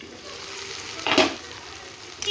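Mutton and potato curry braises over a lowered gas flame in a pot, giving a soft continuous sizzle with one brief louder hissing burst partway through.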